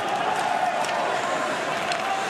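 At an ice hockey arena, a large crowd roars and cheers steadily for a returning Jágr. The sustained, distant wash of noise runs through the whole moment under faint commentary.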